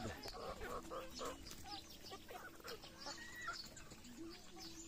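A five-month-old Darag native hen clucks in soft, irregular bursts close by on a rural farm, with a person talking quietly at times underneath.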